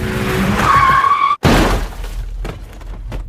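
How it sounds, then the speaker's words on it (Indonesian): A motorcycle crashes at an intersection in a film: a high tire squeal and skid end in a loud, sharp impact with shattering debris, then scattered clatter that fades out. "Di persimpangan itu dia mengalami tabrakan"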